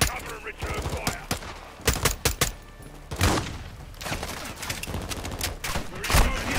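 Rapid bursts of automatic gunfire from a Call of Duty: Modern Warfare II firefight, loud and close, cracking in dense clusters with brief gaps and a few voices shouting under the shooting.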